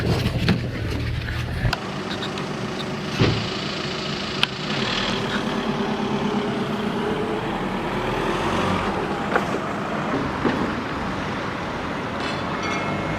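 A car on the move, heard from inside as a steady engine hum and road rumble, with a few soft thumps and knocks scattered through and no talking.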